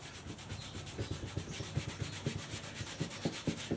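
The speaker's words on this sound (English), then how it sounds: "So all I'm going to do is just rub this all over here." A hand rubs something over a surface in a workshop setting, making steady, rhythmic back-and-forth scrubbing strokes, close and fairly quiet, with no talking.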